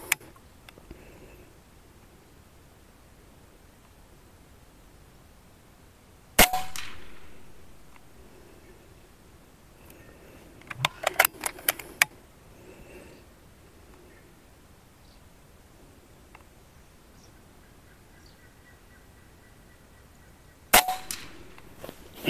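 An FX Liner air rifle fires during a precision test, three sharp isolated cracks spaced far apart with a brief decaying ring after each, plus a quick cluster of metallic clicks in between, amid quiet room tone.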